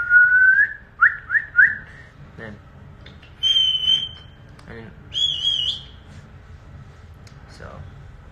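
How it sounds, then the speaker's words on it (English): Three distinct styles of human whistling: quick rising chirped whistles, then two higher, steadier sustained whistles, each separated by pauses with a few brief spoken words in between. "Those are three different types of whistles."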